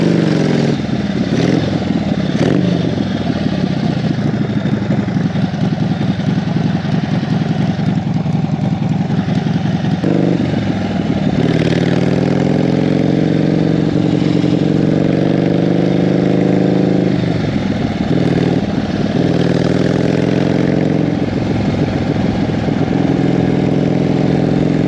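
A vintage Harley-Davidson Ironhead motorcycle engine idling with a steady, loping rumble for a long stretch, briefly blipped and revved partway through before settling back to idle, close and loud with no talk.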